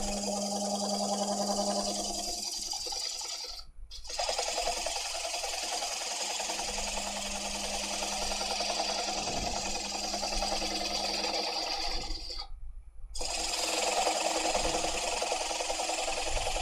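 A wood lathe spins a bowl blank at about 600 RPM while a turning tool gently cuts the tenon, giving a steady, close scraping hum with two brief pauses in the cut.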